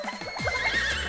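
A video game horse whinnies in Miitopia, a quick series of rising and falling neighs, loud and close with no talking.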